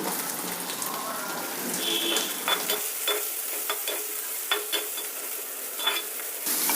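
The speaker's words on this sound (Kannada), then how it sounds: "ಇವಾಗ ಚೆನ್ನಾಗಿ ಫ್ರೈ ಮಾಡಬೇಕು ಇವಾಗ ಈರುಳ್ಳಿ ಫ್ರೈ ಆಗಿದೆ" Onion, green chili and garlic fry in a pan for a Davangere benne dosa masala filling, giving a steady broadband sizzle with a few brief stirring scrapes and clicks, fairly close, with no talk.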